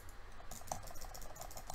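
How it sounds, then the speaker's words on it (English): Rapid mouse clicks from butterfly clicking on a gaming mouse during a Bedwars match, a fast, continuous patter of light clicks with a few sharper taps, close and fairly quiet, with no voice. "I'm butterfly clicking really well today."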